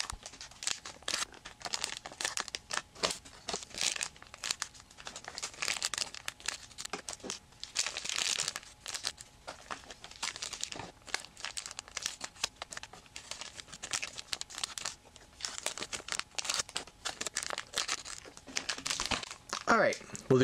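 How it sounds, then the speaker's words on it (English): Cardfight Vanguard Eclipse of Illusionary Shadows booster packs being cut open, a dense run of crinkling foil wrappers and snipping cuts in quick irregular bursts, close and fairly loud, with someone talking at times. "now while I get these cut open to make it a little quicker"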